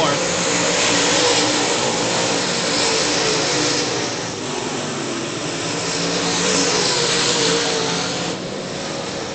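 Late model race cars running through turns 3 and 4 at a racetrack, a loud, continuous roar of engines holding steady throughout with slight swells, alone without clear talk.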